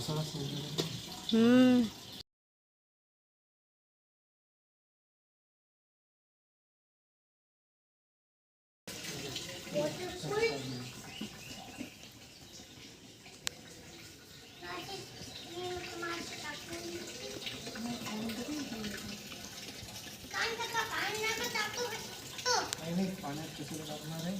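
Water pours steadily into a village temple water tank, a continuous splashing flow heard close by, with people and someone talking over it and a stretch of silence early on.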